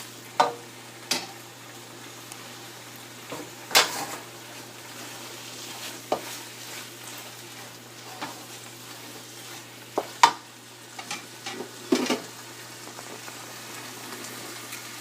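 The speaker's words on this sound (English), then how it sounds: "gently keep adding it on high flame as the keema is frying." Minced keema and tomatoes frying on high flame in a pan, a steady close sizzle broken by repeated sharp scraping stirs throughout, with no talking.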